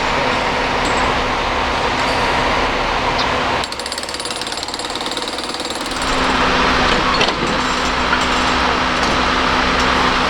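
A railroad track maintenance machine places new ties at a Norfolk Southern freight derailment cleanup in Front Royal, Virginia, hammering in a loud, continuous rapid pounding that briefly eases midway before resuming at full strength.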